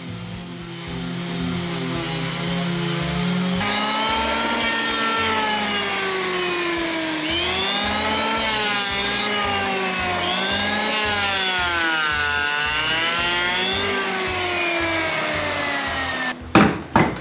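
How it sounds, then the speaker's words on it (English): A power sander runs over a wooden tabletop being prepared for an oil finish, a steady loud whirring drone with shifting pitch as it moves across the surface, stopping near the end with a couple of knocks. "But since I'm finishing with oil this time, I just use a sander and go over everything."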